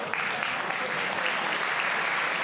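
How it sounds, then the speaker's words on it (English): Loud, sustained crowd applause fills a fight-league event hall after a mixed martial arts bout ends by ground and pound, a dense, unbroken clapping roar that holds steady for the whole stretch. "Let's start with a big applause for these two giants."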